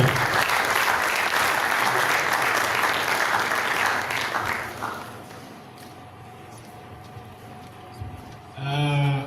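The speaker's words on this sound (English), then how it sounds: "Keep clapping." A youth summit audience in Southern Kaduna breaks into loud sustained applause after a speech, the clapping fading to quieter scattered claps and room noise before a voice speaks at the end.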